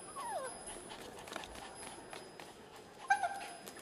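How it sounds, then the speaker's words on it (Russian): A small dog whimpers and yips softly amid faint background rustle, with a sharper cluster of yelps near the end; no one speaks. "Китти, иди сюда, моя собачка хорошая."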